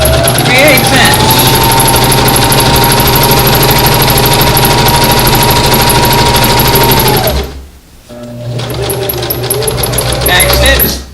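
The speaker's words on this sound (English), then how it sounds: "let's go back to the sewing machine and sew" Sewing machine stitching a 3/8 inch seam on a drawstring bag, a loud steady motor whir with rapid needle chatter running about seven seconds, pausing briefly, then starting again for a short backstitch.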